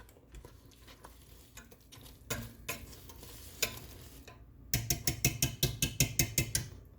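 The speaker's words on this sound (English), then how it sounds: "I'm gonna use a wooden spoon to move, to stir" A wooden spoon stirs macaroni into melted cheese in a pot, giving soft scraping and mushy sounds at first, then a quick run of about a dozen sharp, evenly spaced scraping strokes close by, with no talking.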